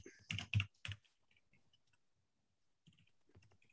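Quick bursts of keystrokes on a computer keyboard as a password is typed, a loud flurry of clicks at the start, then sparse faint taps and a pause before a few more keys near the end.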